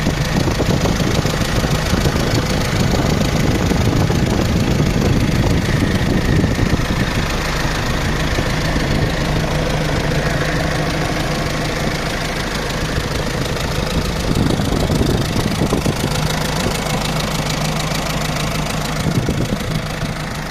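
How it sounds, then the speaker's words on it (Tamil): A Mahindra Xylo D2 diesel engine idles after an overhaul, a steady close mechanical rumble with a fast knocking pulse running evenly throughout, no voices over it. "இந்த xylo இன்ஜினை ஸ்டார்ட் பண்ணிட்டேன்."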